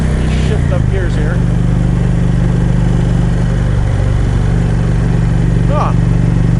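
A motorcycle engine drones steadily and close, with one quick dip in pitch near the start as it shifts up a gear before settling into a constant, loud hum.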